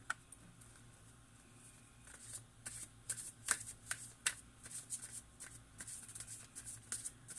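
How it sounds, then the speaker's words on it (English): Manifestation cards shuffled for a tarot reading, giving a close, quiet, continuous papery riffling with soft repeated flicks and taps over a low steady background hum, with no talking. "let's pull a couple manifestation cards for you now"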